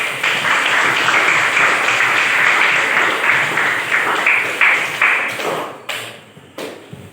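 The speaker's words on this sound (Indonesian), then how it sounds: "Kita berikan tepuk tangan dulu" A school class of pupils applauds in their classroom, dense clapping that holds steady for several seconds, then thins into a few scattered, separate claps before dying away.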